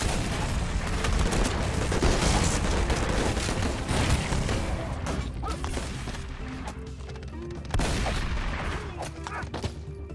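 Gunfire in the Madness: Project Nexus video game rattles in quick irregular bursts, loud and busy with clanking impacts, easing somewhat toward the end.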